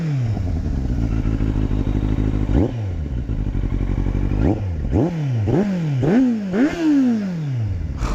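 Kawasaki Z800 motorcycle engine idling steadily, then blipped in a series of sharp throttle revs that rise and fall, growing quicker toward the end, loud and close with no talk.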